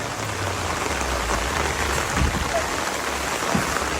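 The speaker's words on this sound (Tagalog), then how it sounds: "May ulan." Heavy rain pours steadily onto a surface, a dense, constant hiss of drops with no letup.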